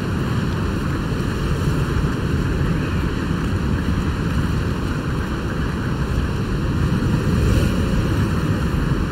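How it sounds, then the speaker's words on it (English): Strong wind roars steadily through the climbing game Jusant, a dense, unbroken rushing noise that stays loud and even from start to finish, with no voices over it. "The wind is strong."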